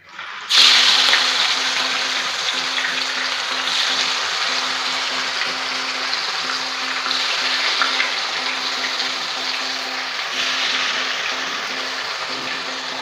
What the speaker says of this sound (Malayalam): നമുക്ക് അതിലേക്ക് മീൻ ഇട്ട് കൊടുക്കാം